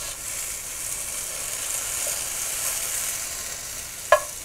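French fries frying in a pan, a dense, bright, close sizzle that holds steady throughout, ending with a single sharp metallic clink.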